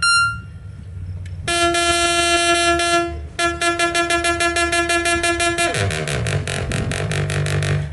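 Synthesizer tone fed through a bandpass filter, sounding as loud, bright sustained buzzing notes that shift into rapid rhythmic pulses, with no talking.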